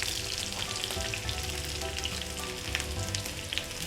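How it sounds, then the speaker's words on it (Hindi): Garlic and onion, a tablespoon of each, frying in a pan over a medium flame, giving a steady, close, continuous sizzle with faint stirring and no talk. "1 टेबल स्पून मैंने लिया है यहाँ पे लहसुन और 1 टेबल स्पून ही मैं ले रही हूँ यहाँ पे प्याज। इसको अच्छी तरह से फ्राई कर लेते हैं।"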